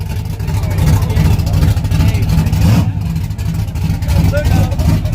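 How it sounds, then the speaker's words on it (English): A car roars past at speed on a race track during Thursday night racing, its engine loud and close, with people talking over the noise. "Here come a nice car finna make a pass, y'all."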